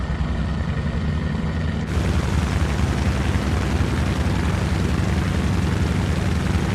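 Grumman Goose seaplane engines run at full power in a flight simulator game: a loud, dense, continuous propeller roar that jumps in intensity about two seconds in and holds steady, with no talk.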